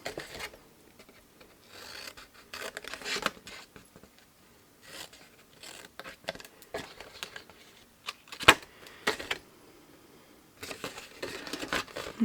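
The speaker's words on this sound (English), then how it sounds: "Let's get a better pair of scissors." Quiet, intermittent snips and rustles of scissors cutting scored paper for a Christmas hanging decoration, with short bursts of crinkling between pauses.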